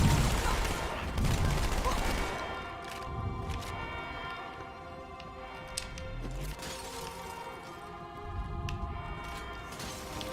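Gunfire in the video game Halo 2, bursts of shots and impacts amid a music soundtrack and game effects, moderately loud and scattered across the passage.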